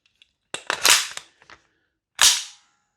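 Salvo Precision SURG MWS gas blowback airsoft rifle fires several sharp, close cracks in a quick burst, then one more loud shot after a short pause.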